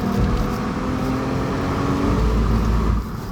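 Subaru Legacy 3.0 Spec B with a flat-six engine accelerating on the road, heard from inside as a loud, steady engine drone mixed with road noise that eases off slightly near the end, with no talking.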